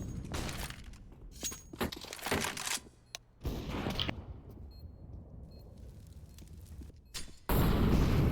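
A grenade explodes in the shooter game CS:GO, heard as a sudden loud broadband burst near the end among sharp cracks and clatter from earlier gameplay.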